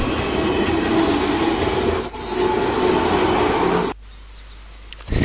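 A red train on the Nanao Line rumbles past a level crossing near Naka-Tsubata Station in Tsubata, Ishikawa, with rattling wheels and a faint squeal, then the noise drops away abruptly to quieter surroundings.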